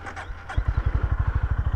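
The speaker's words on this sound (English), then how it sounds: "to give you a little listen to the exhaust" The exhaust of a Honda GB350S motorcycle, recorded through a helmet cheek-pad microphone, starts after a brief wind noise. It then thumps in a loud, steady single-cylinder idle pulse of about a dozen even beats.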